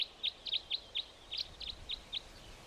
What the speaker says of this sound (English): A flock of crossbills drop in with a characteristic chip-chip call.